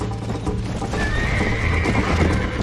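Horse in Red Dead Redemption on Xbox 360 whinnies over a steady clip-clop of galloping hooves, loud and close throughout, with a rising neigh partway through.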